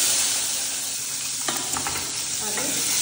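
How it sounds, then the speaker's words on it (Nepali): Cumin seeds hit hot oil in a hostel kitchen pan, bursting into a sharp sizzle and crackle that keeps hissing steadily, close and fairly loud, with no talking. "अब यसमा जिरा राख्छौँ।"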